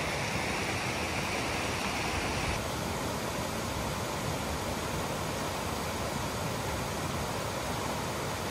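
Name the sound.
waterfall in Montana woods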